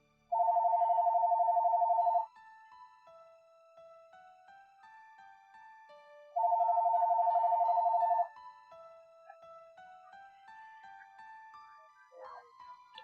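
A landline telephone rings twice, each ring a loud electronic warbling burst of about two seconds, with roughly four seconds of near silence between them and faint background sounds in the gaps.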